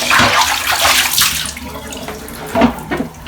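Water splashes and pours close by into a pan from a portable clothes drying machine, uneven gushes rising and falling, loud and near.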